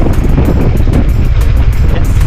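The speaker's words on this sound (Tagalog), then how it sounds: "Malakas po ang hangin ngayon." Strong wind roars and buffets the microphone in a loud, constant rush, with a low rumble underneath.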